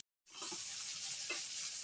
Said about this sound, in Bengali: এবার কড়াইয়ের মধ্যে পেঁয়াজ কুচি দিয়ে দিব।